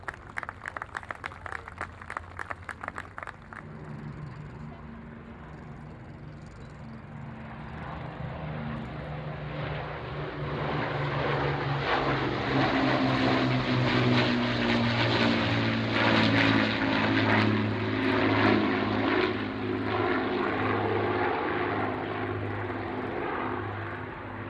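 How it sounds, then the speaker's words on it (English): Avro Lancaster bomber at the Waddington Airshow, its piston engines and propellers building from a distant drone to a loud, sustained roar as it approaches, after some brief clicks at the start. "we present the mighty Lancaster."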